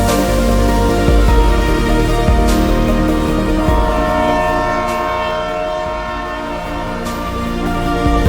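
A train rolls past on the railway track near Castle Rock during heavy rain. Its loud, sustained rumble fills the clip, and long horn blasts sound throughout at close range.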